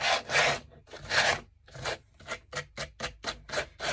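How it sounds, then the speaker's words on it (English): Hand sanding of a solid wood plaque base with rounded corners: a few long, loud rasping strokes followed by a run of quicker, shorter back-and-forth scrapes, close and alone without talk. "sand this final side"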